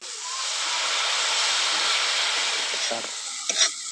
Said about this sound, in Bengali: মশলাটা যাতে পুড়ে না যায় তার জন্য দিয়ে দেবো অল্প জল